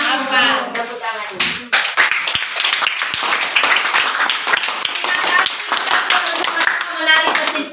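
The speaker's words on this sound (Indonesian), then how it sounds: "Tepuk tangan." Children in a classroom clap together in a dense, lively burst of handclaps, starting with a few rhythmic claps and building to sustained clapping over several seconds, with voices mixed in.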